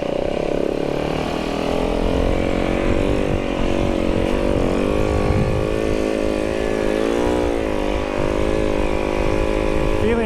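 Snowbike engine revving steadily and loudly up close while riding over packed snow tracks on a climb in Oregon, a continuous buzzing drone with shifting pitch throughout.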